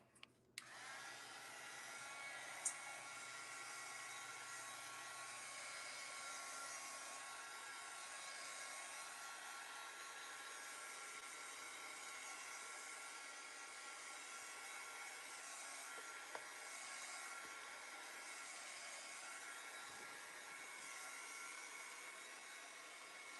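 A hair dryer blows a steady, even whoosh over freshly applied gesso on a mixed-media art piece. The whir runs unbroken and fairly quiet, with no talking.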